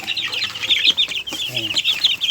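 One-month-old Sebright and Texas chicks cheep and cluck close by in a busy, overlapping chatter, with a few lower clucks mixed into the high peeping.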